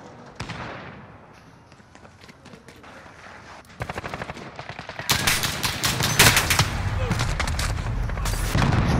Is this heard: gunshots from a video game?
yes